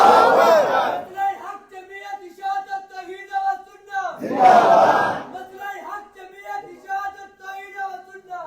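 A large crowd at a religious Quran conference in Mandi Bahauddin roars a chanted slogan in unison, two loud surging bursts separated by quieter stretches of someone speaker's amplified voice.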